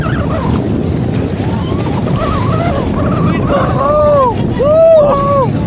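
Large ocean waves surge and wash onto the beach at Velankanni, forming a continuous rushing roar with wind buffeting the microphone, while voices talk and call out over the surf.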